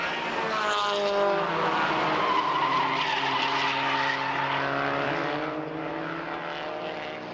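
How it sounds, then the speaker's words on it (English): Group N touring race cars racing hard in old-school South African motorsport, chasing down the leading Opel: a loud, continuous engine roar with wavering revs that swells and then slowly fades as the cars pass, with no talk. "Oosthuizen, now with fresh brakes and tyres, sets about chasing the leading Opel."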